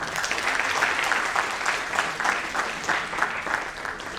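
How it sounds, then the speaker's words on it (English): Crowd applause at an annual company event, a dense steady clatter of many hands, close and fairly loud, continuing evenly for several seconds without speech over it. "I want big round of applause for yourself"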